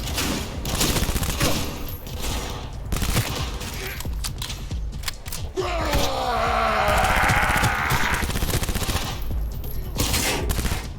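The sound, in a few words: gunfire from a gun in video game Cyberpunk 2077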